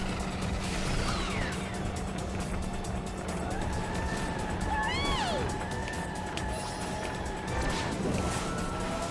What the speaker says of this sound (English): There's a level 2 drift.